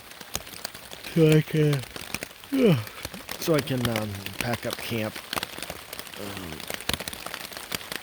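Rain falls steadily on a backpacking campsite along the Low Gap Trail in Morgan Monroe State Forest, Indiana, a soft constant patter running under a man's close-up talk throughout.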